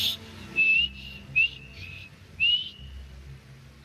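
Several short, clear whistle notes in the video game Skyrim, some rising, spaced irregularly over a quiet background with a low hum.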